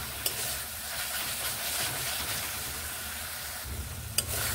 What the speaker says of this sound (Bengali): মশলা বেশ ভালোভাবে এইভাবে কষিয়ে নিচ্ছি।